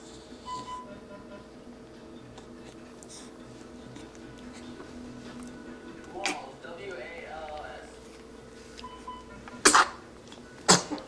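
A person sneezes near the end, a sharp abrupt burst followed by a second quick one, against a quiet room with faint ticking and murmured talk earlier.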